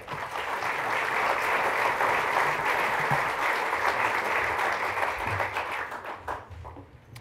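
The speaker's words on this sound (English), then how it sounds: "let's warm them up on this cold afternoon with another round of applause" A crowd applauds at a fall graduation ceremony for veterinary science graduates, with sustained dense clapping that tapers off in the final seconds.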